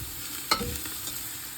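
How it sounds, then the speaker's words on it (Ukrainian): Steady sizzling of onion and carrot frying in an Afghan cast-iron cauldron, with a single clank of a utensil stirring. "Смажимо ще хвилини 5-6."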